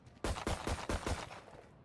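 In Valorant, a game weapon fires a rhythmic series of about five sharp, evenly spaced gunshots at moderate loudness, with a reverberant tail trailing after the final shot.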